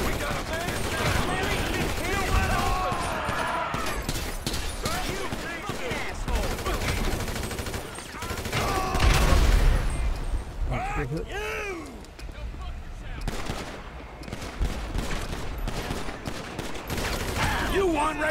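Sustained gunfire in Grand Theft Auto 5 rattles on almost nonstop, dense machine-gun bursts and shots layered together at a steady loud level, with people talking and shouting over the shooting.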